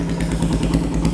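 A carbureted chopper motorcycle engine idles close by with a steady, lumpy low throb and a rattly mechanical clatter on top.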